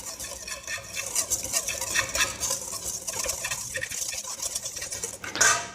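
Dry macaron ingredients with freshly ground coffee stirred in a bowl, giving a continuous scraping, swishing rustle close up with no talk.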